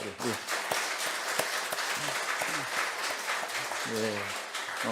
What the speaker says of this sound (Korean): 크게 박수 한번 칩시다